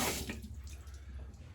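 Running tap water splashing into a sink to rinse alum off after a straight razor shave, a brief soft steady gush that fades slightly, close by with no talking.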